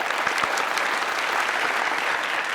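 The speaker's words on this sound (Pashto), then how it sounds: "په ویاړې ښې ډېرې چکچکې وکړو." Steady, dense applause from a quiz show studio audience for a team, many hands clapping evenly and close throughout.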